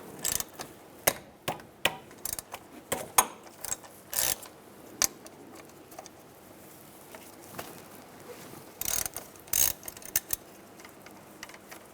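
A ratchet with a 13mm socket clicks in quick bursts while backing out the front brake caliper bolts on a 2002-2005 Chevrolet Trailblazer, close and fairly quiet, with short pauses between runs of ratcheting.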